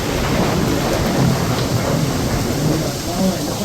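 Steady, loud monsoon rain pours down on a day in Ahmedabad, a dense close hiss that never lets up for the whole stretch.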